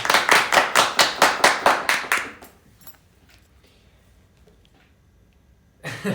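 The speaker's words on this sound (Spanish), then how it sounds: "Un aplauso para mí." Applause at a Spanish-language talk, heard as about ten loud, evenly spaced claps over two seconds, then near silence, with a brief burst of noise at the end.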